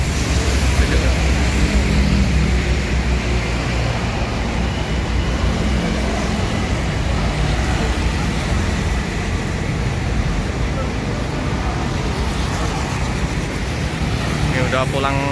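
Busy road traffic at rush hour beside a bus ticket office near an LRT station, a constant roar of passing cars and buses close by, steady throughout with a heavier vehicle swelling near the end.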